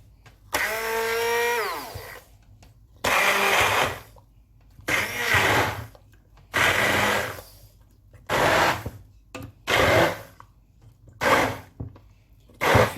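Hand blender chops tomatoes for jollof rice in repeated short bursts, the motor whirring loudly for a second or two at a time with quiet pauses between pulses.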